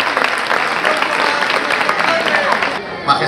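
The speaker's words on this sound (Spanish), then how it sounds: "Un aplauso para los Reyes Magos de Oriente." Crowd applause for the Three Kings (Reyes Magos) at the 2024 Cabalgata parade in Bolaños de Calatrava, steady and dense throughout with voices mixed in, dropping off briefly near the end.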